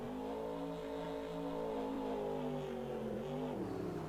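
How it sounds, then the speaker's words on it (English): A monster truck engine at a Monster Jam freestyle event in Minneapolis revs hard in a sustained, loud, throaty drone. The pitch wavers and dips slightly near the end. "Driving this truck as hard as he can."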